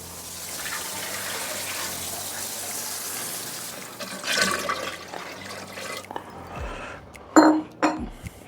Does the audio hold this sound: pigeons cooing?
no